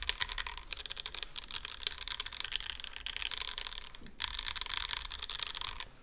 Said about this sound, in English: This is overall a pretty stiff typing experience.